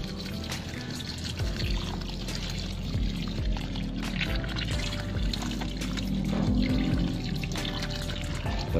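Water pours into a liquid organic fertilizer mix, a continuous gurgling trickle that runs steadily throughout, swelling slightly toward the end, with no speech.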